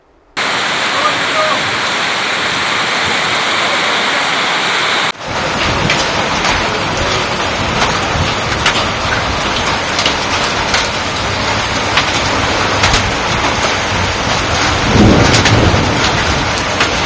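Heavy monsoon rain pours down steadily amid strong gusting winds, a loud continuous roar with occasional rumbles, the character shifting partway through as the downpour continues.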